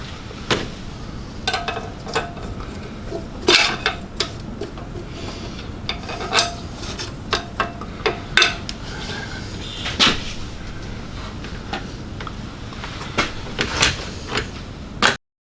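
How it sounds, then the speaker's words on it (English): A big 17mm spanner working a coolant line union on a Holden Barina / Chevy Sonic turbo, irregular close metallic clicks and rasping ratchet-like scrapes with quiet gaps between. "Use my big spanner, see what we can do."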